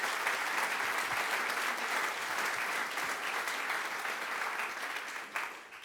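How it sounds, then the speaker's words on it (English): Crowd applause at the launch of a tech hub in Skibbereen, Ireland: a sustained wash of many hands clapping, steady and even throughout, thinning slightly near the end, with no talking over it. "So give it a big round of applause."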